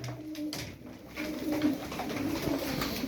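Tumbler pigeons coo softly and repeatedly, low rolling calls close by over faint background noise.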